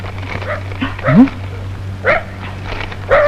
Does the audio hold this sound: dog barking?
yes